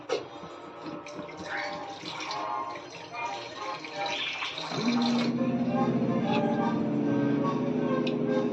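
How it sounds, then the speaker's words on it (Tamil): Water is poured into a pan of black chickpea masala gravy, a steady, filling gush rising over soft kitchen background noise, with a faint voice now and then. "நமக்கு எவ்வளோ தண்ணி வேணுமோ அந்த அளவுக்கு தண்ணி ஊற்றிக்கலாம்"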